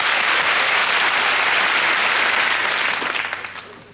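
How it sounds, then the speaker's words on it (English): Studio audience clapping in a comedy show setting, a dense, loud wave of applause holding steady for several seconds before tapering off at the end, with no talk over it. "Clap if you think he looks stupid."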